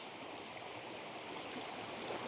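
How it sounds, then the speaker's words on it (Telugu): Steady rushing water from a forest waterfall stream, a continuous broadband wash, fairly close with no voices. "ఇవి జలపాతం జలపాతం నుంచి వస్తున్న వాటర్"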